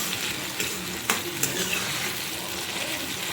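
Coconut masala paste goes into a hot pan for misal, giving a bright continuous sizzle with a few soft knocks and scrapes of stirring, close and moderately loud.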